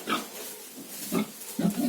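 A pig on a farm gives a few short, low grunting oinks near the microphone, scattered across the moment with quiet gaps between them.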